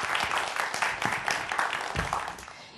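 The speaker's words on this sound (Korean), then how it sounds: "우리 상무님께 다시 한번 큰 박수 보내주시기 부탁드립니다" Audience applause for a KT big-data executive after a lecture on mathematics, a quiet, rapid patter of many hands clapping steadily throughout, with no voices over it.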